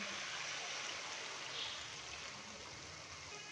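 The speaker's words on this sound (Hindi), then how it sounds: "अभी मैं इसके अंदर 1/2 कप पानी डालूँगा।" Half a cup of water is poured into a pan of beef liver masala after the spices have been fried. It makes a steady, soft rushing and hissing that runs evenly for a few seconds, with no speech over it.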